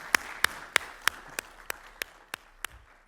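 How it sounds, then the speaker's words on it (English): Sparse clapping from a small audience after a congressional briefing panel, a handful of sharp hand claps spaced evenly over a soft room background, with no talking. "Can we give a round of applause to the panel, please?"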